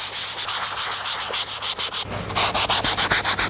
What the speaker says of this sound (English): the first thing I'm going to do is thoroughly sand this interior